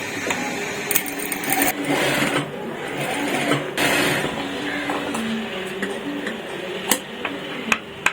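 A sewing machine stitches folded blouse fabric in quick mechanical bursts that stop and start, with a few sharp ticks near the end.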